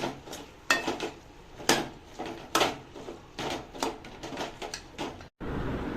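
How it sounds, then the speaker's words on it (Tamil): Spoon stirring chopped bottle gourd in a cooking pan, with repeated scraping clinks and knocks against the metal in an uneven rhythm, close and fairly loud, ending in a brief hush. "இப்போ நம்ம சொரக்காய் சேர்த்திக்கலாம். நல்லா ஒரு கிளறி விட்டுக்கலாம்."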